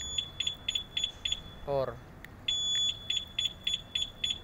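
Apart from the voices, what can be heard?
Yamaha NMAX motorcycle GPS tracker alarm beeps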